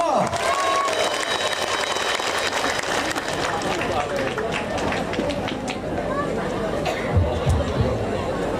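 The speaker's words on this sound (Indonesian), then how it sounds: "Tepuk tangan untuk Pak Prabowo." A crowd at an Islamic religious gathering at a pesantren claps steadily in a dense, sustained patter, with chatter and voices mixed throughout.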